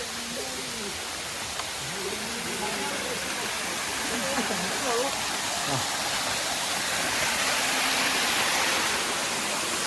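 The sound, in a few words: waterfall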